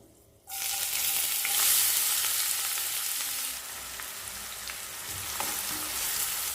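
Finely chopped onions fry steadily in a pan for a paneer gravy, a dense, bright sizzle that starts abruptly and holds close and loud, with occasional stirring scrapes and no voices.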